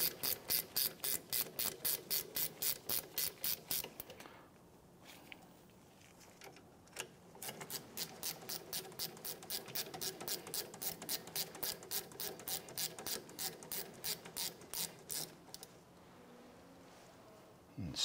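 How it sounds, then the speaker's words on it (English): Ratchet wrench snugging down rear brake caliper bolts on a 2005-2007 Ford Five Hundred, heard as rapid, even clicking bursts close up, with a short pause before a longer run of steady ratcheting. "once you have your bolts in, go ahead and snug those down"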